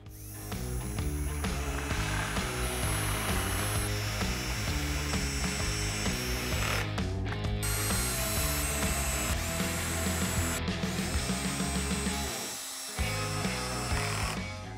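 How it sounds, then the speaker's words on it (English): A power drill driving screws into wooden boards on a woodworking jig, its steady whirring running continuously at close range with brief pauses between screws, no talking. "I'm going to add a couple of screws to both of these boards just to make sure they don't go anywhere"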